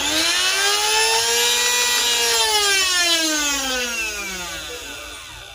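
Small electric machine plugged into 220 volts with clashing forks, making a loud, harsh rattling hum whose pitch sweeps down and up as it runs, then slowly fades near the end.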